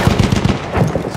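A rapid-fire gun in Battlefield 1 rattles off a quick, loud, close burst of evenly spaced shots, briefly pausing before a few more rounds.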